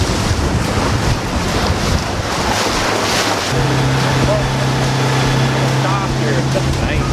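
Strong wind roars across open water near a bay, buffeting the microphone with steady, loud rushing noise; halfway through, a low, steady boat engine drone rises beneath the gusts.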